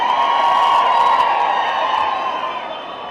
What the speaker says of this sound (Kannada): ವಿಜಯ್ ಕಾರ್ತಿಕೇಯ ಸರ್ ಅವ್ರಿಗೊಂದ್ಸಲ ಜನ ಚಪ್ಪಾಳೆ